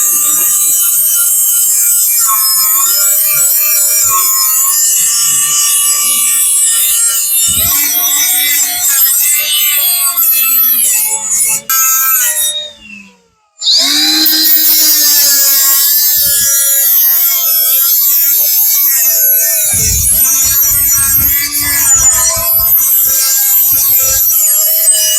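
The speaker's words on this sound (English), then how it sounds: "So we're just going to grind everything between here and the halfway point." A grinder grinds down metal on a Honda Civic EF chassis before welding. The loud, continuous high-pitched whine and rasp is close by and holds steady, with one brief drop in the middle.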